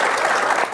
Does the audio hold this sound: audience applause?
yes